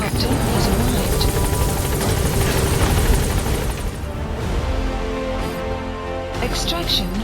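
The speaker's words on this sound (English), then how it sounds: "Helicopter has arrived." An extraction helicopter in Metal Gear Solid V arrives with a loud, steady rotor whir and engine drone that dominates throughout, easing slightly partway as voices and game sounds come in over it.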